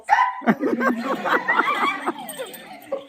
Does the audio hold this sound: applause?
no